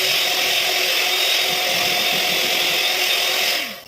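An electric hand beater whirs steadily through an ice cream mixture, a loud, continuous close-up motor drone with a faint rhythmic churn, running evenly for several seconds before winding down at the end.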